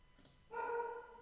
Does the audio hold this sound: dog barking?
yes